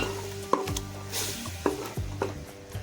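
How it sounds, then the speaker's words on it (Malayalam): Ground coconut being stirred into sautéed onions in a pan, with a few distinct spoon knocks and scrapes spaced about a second apart over a faint sizzle. "ഈ സവോളയൊക്കെ ഒന്ന് വഴന്നു വന്നതിന് ശേഷം നമ്മൾ അരച്ച് വെച്ചിരുന്ന തേങ്ങ ഇതിലേക്ക് ഒഴിച്ചു കൊടുക്കാം എന്നിട്ട് നമുക്ക് നല്ല ഒന്നൊന്ന് ഇളക്കി കൊടുക്കാവേ"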